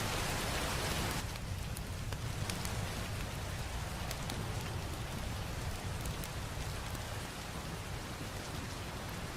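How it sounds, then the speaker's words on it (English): Light rain patters steadily outdoors near a fire, an even close hiss with scattered sharper drops tapping through it, faint and continuous with no voices. "bit of rain."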